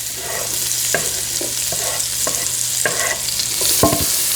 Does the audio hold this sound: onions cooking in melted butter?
yes